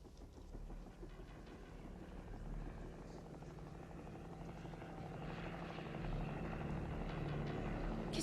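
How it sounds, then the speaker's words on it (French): An army helicopter flies close by, its steady rotor and engine drone filling the air continuously and growing slightly louder toward the end, with no talking over it. "Qu'est-ce qu'un hélicoptère de l'armée vient faire ici?"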